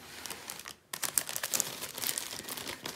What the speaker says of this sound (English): might be a little bit of crinkling while I sort these diamonds out